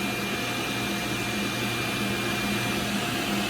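A Grizzly T10113 boom dust collector draws air beside a 12-inch 5HP Grizzly G0605X1 table saw, a steady loud whooshing roar with a constant hum underneath, unchanging throughout and free of voices.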